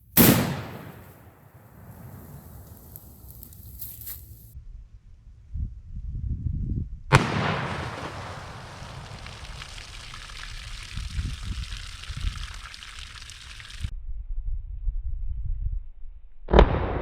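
A 45-70 rifle fired at water jugs lined up downrange outdoors: two loud, sharp reports about seven seconds apart, each followed by a long hissing, rumbling decay, with a third blast just beginning at the end.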